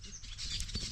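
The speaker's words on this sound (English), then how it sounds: "because of the noise of my birds right there" Birds chirp near a home in a village, a busy layer of small tweets over steady outdoor background noise, with no voices.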